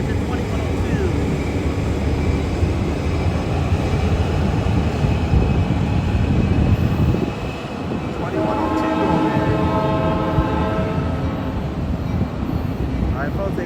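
An Amtrak Capital Corridor train, led by an SC44 Siemens Charger locomotive, passes Oakland's Jack London Square Station with a steady, loud rumble of rail noise throughout and a brief horn-like tonal blast partway through.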